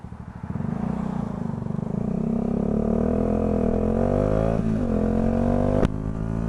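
Motorcycle ride near Tagaytay with a loud, continuous engine drone that climbs steadily in pitch as it accelerates, wind buffeting the rider throughout, no speech.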